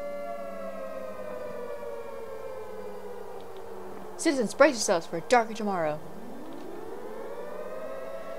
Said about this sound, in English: Just a siren for us all.